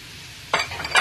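Tomatoes dropped into a pan of ginger garlic paste for a mushroom curry hit with a sudden loud sizzle after a quiet moment, followed by stirring and spitting frying sounds.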